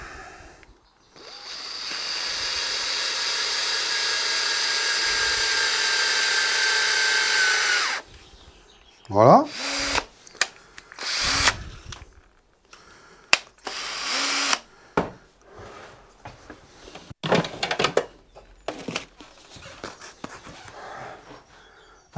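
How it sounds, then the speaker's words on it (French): A power drill spins a short threaded rod for sanding, whining steadily for several seconds before stopping, followed by scattered clunks and handling noises and a brief spoken word. "Dans la perceuse."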